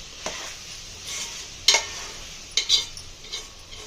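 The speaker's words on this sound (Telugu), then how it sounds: "అల్లం యాడ్ చేసుకొని ముక్కలకు పట్టేలా కలుపుకోవాలి." Ginger and turmeric being stirred into chopped vegetables in a pan for sambar, with a soft sizzle under a few distinct scraping strokes of a spoon, spaced irregularly and heard up close with no talking.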